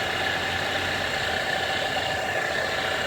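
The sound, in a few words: car engine idling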